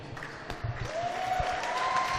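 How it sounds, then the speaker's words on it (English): Applause at a women's ball hockey medal presentation in an arena, a soft, fairly distant patter of clapping that builds slightly, with a faint whistle-like tone rising midway. "As a hearty round of applause goes to Vanier United"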